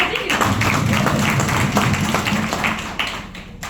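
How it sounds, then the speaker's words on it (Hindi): An audience claps together at a speech event, a steady crowded patter of hands held at an even level throughout, fairly loud with no break. "तो मैम के लिए जबरदस्त ताली होनी चाहिए"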